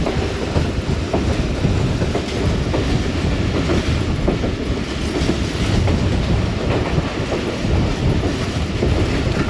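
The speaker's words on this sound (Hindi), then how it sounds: "ट्रेन हमारी इस वक्त बकड़ाला रेलवे स्टेशन से पास थ्रू करने लगी है" Rehman Baba Express passenger train running through a railway station in Pakistan, a steady loud rumble with rhythmic clickety-clack of wheels over rail joints and faint squeal, continuous throughout with no talk.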